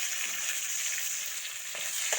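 Onions browning in a pan on a home stove, a steady close hiss of frying with faint clinks of stirring, no voices.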